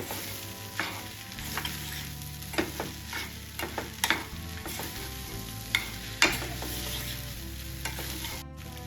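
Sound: stirring tomato rice in a pan

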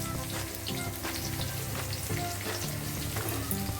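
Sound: whole cumin seeds frying in oil with onion and garlic

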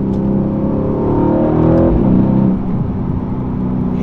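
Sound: Mercedes-AMG C63 S coupe 4.0 V8 biturbo engine revving

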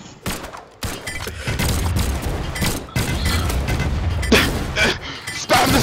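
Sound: cannons firing in the video game Brawlhalla

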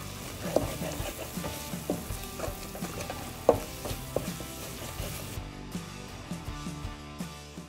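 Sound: gari jollof with stock simmering in a pot

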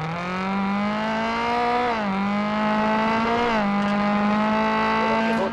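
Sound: car engine revving in a video game

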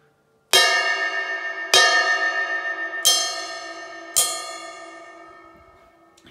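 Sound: bell of Sabian 22-inch AAX Omni ride cymbal struck

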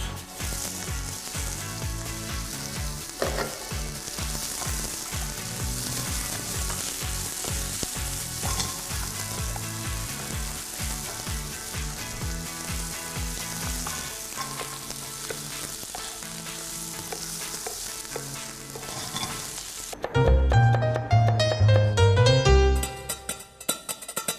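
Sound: onions sautéing in a pan

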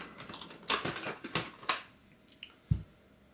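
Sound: screwdriver undoing screws holding a laptop fan

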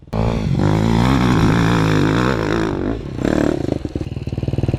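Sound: enduro motorcycle revving in sand

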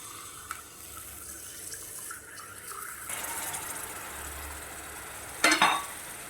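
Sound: tamarind water poured into fried chilli and coriander

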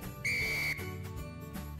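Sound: referee whistle, long and loud, signalling a rugby try

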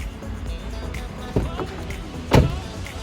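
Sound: car side mirror power folding out

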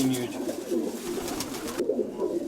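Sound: white-tailed dove cooing

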